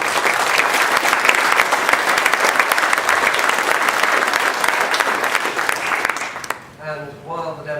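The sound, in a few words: applause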